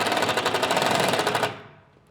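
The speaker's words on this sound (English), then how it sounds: "I'm gonna put a screw in it" Power drill driving a screw through a drywall sheet into a basement wall frame, a loud steady buzzing whir lasting about a second and a half before cutting off abruptly.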